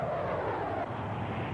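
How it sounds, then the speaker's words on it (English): FB-111 military jet aircraft in flight: a steady, loud, broadband engine roar that stays constant through its brief span, with no voices. "New airplanes, the FB-111s."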